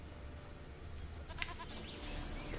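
A goat bleats in The Witcher 3 video game, a short bleat sounding faint and mid-distance over a constant ambient game background hum.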